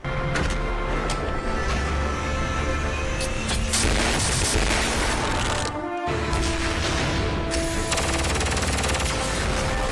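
Heavy continuous gunfire and booming cannon blasts from giant armored war machines in the Heavy Object anime, loud and dense throughout with a brief break near the middle, no talking.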